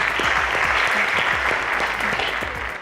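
Spectators at a Nigerian school quiz show clap for the contestants, a loud, dense round of applause that holds steady and fades slightly toward the end.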